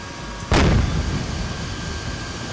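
An Abrams tank fires its main gun at a T-55 in a combat video game, one sharp, heavy boom that rolls off into a long fading rumble over a constant low background hum.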